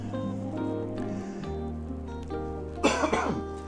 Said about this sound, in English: Gonna try not and cough too much.